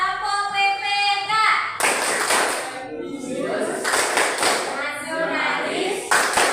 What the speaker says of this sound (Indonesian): mari sekarang kita melakukan tepuk PPK